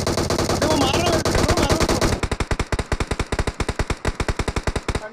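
Automatic gunfire in the video game PUBG Mobile, a loud close rapid burst that gives way to a steady run of evenly spaced individual shots.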